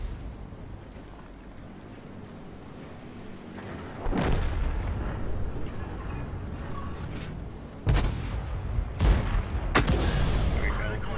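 Tank gun shots from an M12 in World of Tanks, two heavy booming blasts a few seconds apart over a constant rumbling engine and battle din, with a sharper crack near the end.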